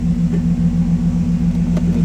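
A Lexus IS300's engine runs at its first start-up, a steady low idle hum close by with no talking.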